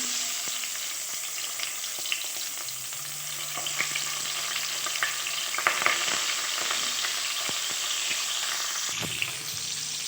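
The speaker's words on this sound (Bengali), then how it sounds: "এবার মাছগুলো কড়াইয়ের মধ্যে সাবধানে দিয়ে দিতে হবে" Tengra fish fry in oil in a kadai with a steady, close sizzle and scattered pops and crackles throughout, with no talking.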